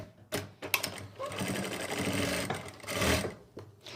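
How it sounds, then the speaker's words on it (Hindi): A sewing machine stitches a folded trouser hem, its needle whirring in steady bursts that start, run continuously and pause briefly, loud and close with no voice over it. "ऐसे फोल्ड करने के बाद हम यहाँ पर सिलाई लगा लेंगे।"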